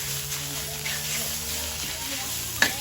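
Chili paste being stir-fried in a wok, a steady close sizzle and crackle with a sharp clink near the end, under someone talking.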